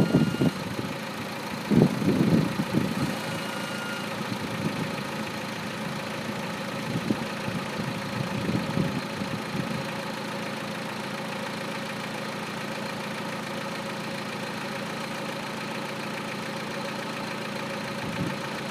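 A 2000 Honda Civic with a 1.6 engine idles nearby, a steady low hum with a few louder mechanical rattles early on, then an even drone to the end.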